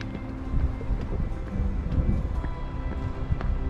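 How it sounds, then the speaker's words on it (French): Wind buffeting the microphone of a GoPro Hero 9 Black camera outdoors, a continuous rumbling roar with gusty surges, close and fairly loud, no talk. "Là, je suis en plein vent."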